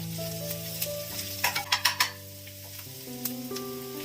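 Onions sautéing in a pan for vada junaka, a steady sizzle with a spoon stirring and scraping in a quick run of strokes, close by over a low background hum.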